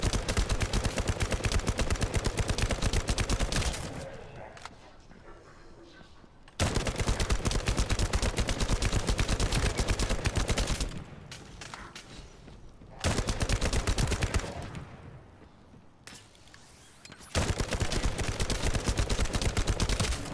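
Sustained automatic gunfire in 7 Days to Die comes in four long, loud bursts of rapid shots, with short quieter gaps between them.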